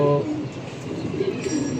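Pakistani Nazra Kaldom pigeons coo in low, soft murmurs, loudest at the start and then a steady warbling coo that continues at close range without speech.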